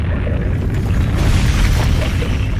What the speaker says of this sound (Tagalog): yung lakas na pagsabog man